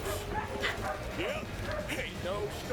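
Dogs bark and yip in the video game South of Midnight during a hurricane party, several short calls scattered under background ambience and in-game character speech.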